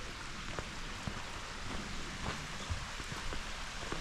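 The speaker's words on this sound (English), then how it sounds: "So you follow the creek" Small waterfalls on a creek at Fall Run Park in Pittsburgh give a steady rushing, rain-like hiss with scattered splashing drips, moderately near and unbroken, with no voices.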